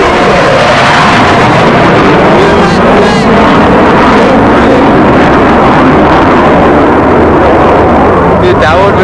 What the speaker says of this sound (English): oh, we got a jet